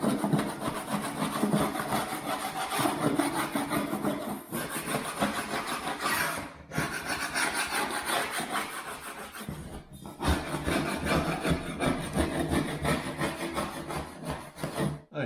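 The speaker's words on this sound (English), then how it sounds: "we're going to have to get our scraper and go over this" A metal scraper drags over a plaster skim coat on a bathroom wall, giving a continuous close, loud rasping scrape with brief pauses between strokes.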